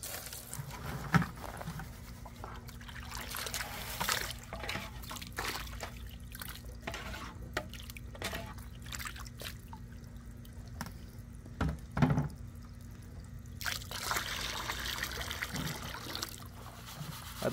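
Water from a hose rinses out gold-prospecting equipment, splashing and trickling in irregular spurts, dripping and pattering close by at low volume, with no voices.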